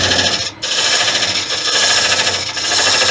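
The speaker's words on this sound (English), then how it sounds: "I'm going to come in with a parting tool, even about a centimetre or so." A parting tool cuts into a monkey puzzle branch spinning on a wood lathe, giving a loud, steady scraping rasp that runs almost without a break, with two brief dips where the tool eases off.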